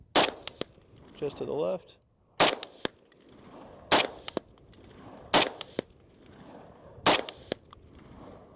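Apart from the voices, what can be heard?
rifle shots fired at a steel target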